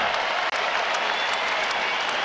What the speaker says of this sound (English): a round of applause for the MVP, who has been nothing short of spectacular